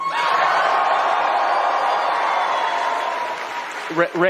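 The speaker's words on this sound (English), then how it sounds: "make some noise if you care about the Jeffrey Epstein scandal." Large convention crowd of thousands cheering and applauding, a loud, sustained roar of claps, whoops and shouts that fades near the end as a voice begins speaking.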